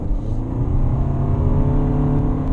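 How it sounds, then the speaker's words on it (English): A 2017 Renault Koleos with a CVT gearbox revs under acceleration through simulated upshifts, a steady, close engine drone with a layered harmonic hum that holds fairly even throughout. "So the transmission just sounds differently when it does so."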